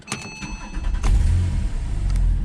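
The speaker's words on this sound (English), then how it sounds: "Let me just start it up actually" A 2009 Porsche 911 Carrera 4S 997.2 with a 3.8 litre engine cranks with a few quick clicks, then catches and barks into a loud, deep, close idle that holds steady.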